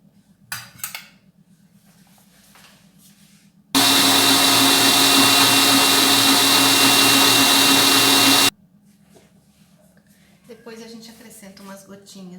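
An electric mixer beats butter into frosting for a carrot cake, a loud steady whir that starts abruptly, runs for about five seconds and cuts off, with someone speaking before and after it.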